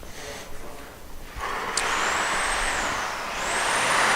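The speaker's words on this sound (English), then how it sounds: "You can hear me because Tim's cutting" Metal is cut for engine mounts in a shop working on a K24 engine swap into a BMW 2002, a loud, continuous grinding roar with a high whine that holds steady and shifts slightly near the end.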